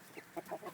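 Chickens in a backyard coop give a few soft, close clucks in quick succession, short and fairly quiet, with no talking.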